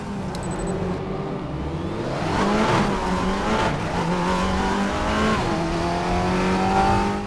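A race car in the RaceRoom video game pulls out of the pit lane at Spielberg. The engine hums steadily and rises in pitch as it accelerates, with faint tire squeal, loud and continuous throughout.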